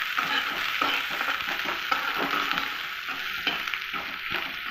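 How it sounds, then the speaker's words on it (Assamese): Onions fry in hot oil for a fish-and-lentil curry, browning to a reddish colour. The sizzle is dense and close, broken by rhythmic scraping and stirring strokes, with no talking. "পিঁয়াজখিনি অকণমান ৰঙাকৈ ভাজি ল'ব"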